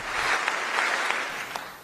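Applause fills a parliament chamber after the King's speech, a steady dense wash of many hands clapping with no voices breaking through, sustained evenly for the whole moment.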